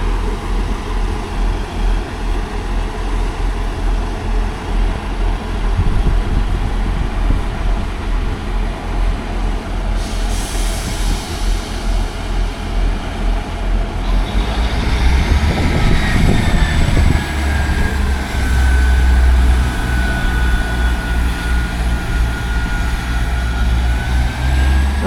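Trains passing through Alfreton railway station, a low steady rumble building as a train approaches, with rising wheel and brake squeal tones in the second half; no talk over it.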